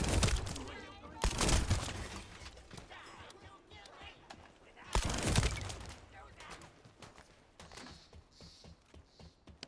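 Gunfire in the shooter game The First Descendant: bursts of rapid shots crack out loudly in two main volleys over a steady background of game noise, with voices faintly in the mix.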